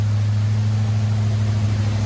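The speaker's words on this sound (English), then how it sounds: "that little tiny tick that you can hear is the exhaust" A big block engine idles steadily with a strong low rumble, a faint rhythmic tick from a small exhaust leak riding on top, continuous and close throughout.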